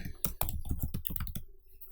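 Keys clattering on a computer keyboard while a search term is entered, a quick run of close, crisp clicks and taps for about a second and a half before the keystrokes stop.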